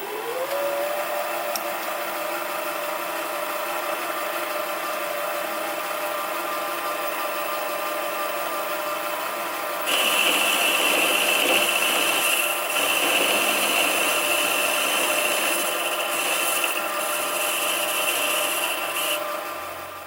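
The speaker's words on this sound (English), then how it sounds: "So now it's just a matter of turning this down to 9/32 of an inch." A metal lathe steadily turns down a crankshaft bearing for a Stuart 10V model steam engine, a continuous whirring drone that grows louder and harsher as cutting begins partway through, with no talking.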